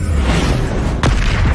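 A Confringo fire-spell blast in the game Hogwarts Legacy, a loud, dense, low booming rumble that fills the whole moment, with a sharp burst cutting through about two thirds of the way in.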